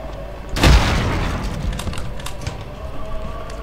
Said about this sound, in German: Am besten werfe ich einfach eine Granate rein.